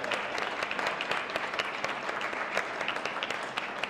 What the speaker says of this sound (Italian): allora un applauso per questa bella Sicilia